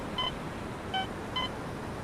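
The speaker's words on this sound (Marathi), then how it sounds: "बीपचा आवाज येतोय" Three short electronic beeps from a metal detector on sand at Devgad Beach sound at irregular intervals over a steady background hiss, each a brief clean tone.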